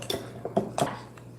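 A utensil stirs dulse granules into salad dressing in a bowl, a few soft clinks and scrapes, close and brief, with no talking.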